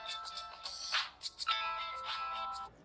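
A mobile phone ringtone plays a bright synthetic melody of quick tones, close and clear, with no talking.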